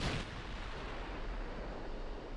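Battleship guns fire shells in Ultimate Admiral Dreadnoughts, a single faint, distant boom at the start trailing into a long rumbling echo.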